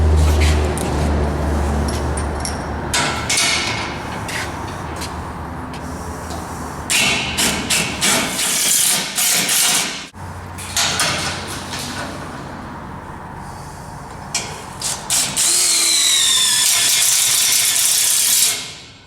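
Screws driven into a plywood-fronted horse stable panel with a hinged door, power driver bursts whirring and ratcheting in several intermittent runs, fairly loud and close, with handling knocks between them.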